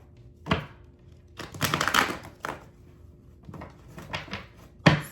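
A deck of tarot cards being shuffled by hand, heard as a few separate bursts of riffling and slapping with quiet pauses between them, close and moderately soft.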